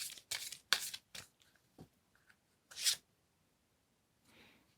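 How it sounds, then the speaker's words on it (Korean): Oracle cards shuffled and drawn by hand, with a quick run of crisp riffling bursts, a few soft taps and slides, then one more sharp shuffle and a faint brushing rustle near the end, close and without talk. "제가 오라클 카드로 좀 뽑아보도록 할게요"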